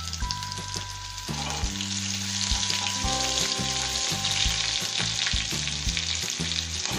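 Chopped green and red chillies dropped into hot oil with garlic, giving a loud steady close-up sizzle throughout, with low scraping and knocking of stirring beneath, no voices.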